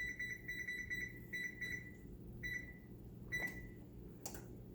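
A kitchen oven beeping as it is set to preheat to 400, with a string of short, evenly spaced electronic beeps in quick groups, then a couple of single beeps and a click, close and fairly quiet, with no talk.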